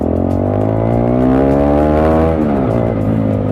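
A Bajaj Dominar 250 motorcycle with a modified silencer whose packing has been removed, revving loudly up close in a rich, throaty, steady drone that rises and then dips slightly near the end.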